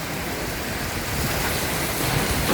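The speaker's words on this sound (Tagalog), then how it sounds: "Sobrang lakas ng hangin." Strong typhoon wind roars steadily and loudly throughout at an exposed height, a dense, unbroken rush of noise with gusty surges and no voices.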